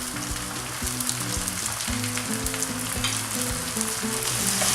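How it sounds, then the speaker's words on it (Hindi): Chopped tomatoes sizzling in a hot pan while cooking chicken handi, a continuous close crackle and hiss with small popping bursts, no talking. "चॉप टमेटोज ऐड कर लें।"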